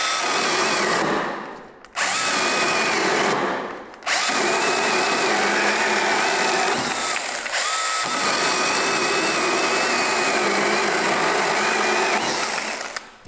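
An 18-volt cordless battery pole saw cuts through a tree branch, its motor running with a loud, steady high-pitched whine, interrupted briefly twice early on before buzzing continuously.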